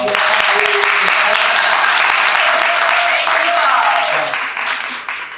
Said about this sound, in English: So you can give yourselves a round of applause.